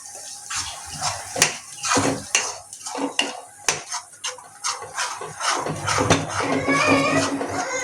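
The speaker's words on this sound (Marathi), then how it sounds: "चांगला एकदा मिक्स करून घेऊया" A spoon works through thick masala in a metal cooking pot for a fish curry, with repeated wet scraping strokes and clanks against the sides, close and clear, steady rhythm throughout without talk.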